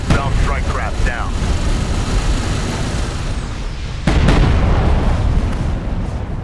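Hostile strike craft blowing up in the desert real-time strategy game Homeworld: Deserts of Kharak, with a rumbling battle drone broken by a sharp, loud explosion burst midway and lingering low booms under the engine roar.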